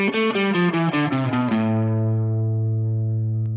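An electric guitar with distortion plays a quick ascending run of scale notes one after another, then lands on a low note that sustains and rings out, clear and alone.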